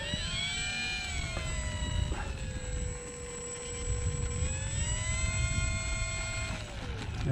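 High, steady electric motor whine from an E-flite 1.2 m P-51 Blondie RC model plane taxiing downhill in a park, the pitch rising and falling with throttle over light wind and outdoor background noise.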